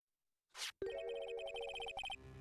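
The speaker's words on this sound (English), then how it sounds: "A question for you, partner. I heard the phone ring just now." A phone ringtone sounds in a video game: a short noisy burst, then a steady electronic melody of repeated tonal beeps that plays clearly for about a second and a half before cutting off.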